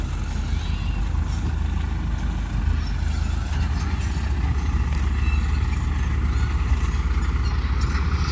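Dump truck engine running loudly and steadily while a bulldozer is loaded onto it, a constant heavy low rumble up close with faint hissing from the air brakes.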